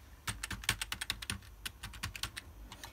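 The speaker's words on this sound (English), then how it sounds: "you need to type in a new password here" A password is typed on a computer keyboard while setting up Windowsfx on a Raspberry Pi 4, producing a quick, irregular run of close, crisp key clicks with short pauses, faint and without talk.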